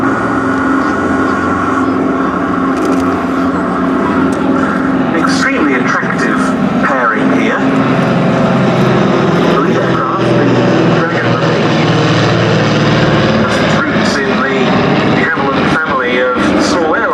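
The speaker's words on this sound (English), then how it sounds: "Here they come from the left, a very attractive pairing of the Dragon Rapide and the Anson." A de Havilland Dragon Rapide and an Avro Anson pass together at a Duxford VE Day airshow, their propeller engines a steady loud drone building and fading as they fly by, with a commentator talking over it.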